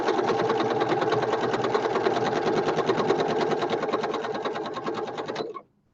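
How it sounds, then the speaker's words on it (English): A sewing machine runs a continuous straight stitch around the edge of patchwork fabric made from scraps, a close, steady, rapid whir that holds for about five seconds and then stops abruptly. "So straight stitch, sew all the way around the outside."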